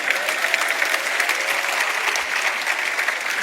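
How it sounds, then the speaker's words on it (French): A church congregation applauds after a short demonstration during a sermon, producing steady, dense clapping from many hands at an even level throughout, with no voices over it. "On peut les applaudir, merci."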